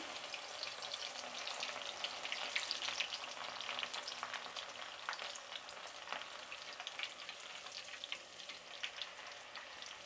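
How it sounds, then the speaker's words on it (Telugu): Coarsely crushed garlic cloves, still in their skins, fry in hot oil in a pan until crisp, making a continuous close sizzle with fine crackles and occasional stirring, with no voices. "ఇప్పుడు తెల్లగడ్డలు కూడా వేయించుకుందాము."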